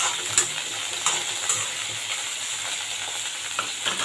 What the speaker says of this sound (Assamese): আগত ফুলকবিখিনি ভাজি লওঁ